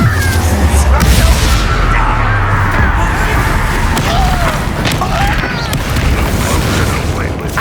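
Confringo fire spell explosions in the Hogwarts Legacy video game, with dense booming blasts and battle noise filling the whole stretch, loud and continuous alongside shouted voices.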